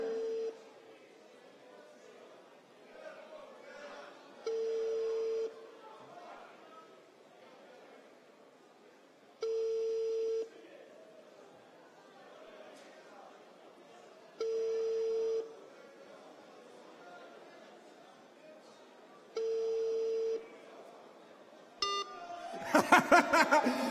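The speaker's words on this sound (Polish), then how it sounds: "zgodnie z regulaminem wykonujemy ponownie połączenie i czekamy również do pięciu sygnałów." Repeated telephone ringback tones sound during a lottery draw for a Mustang, five evenly spaced beeping signals about every five seconds, with quiet murmuring and chatter in the room between them and louder noise at the end.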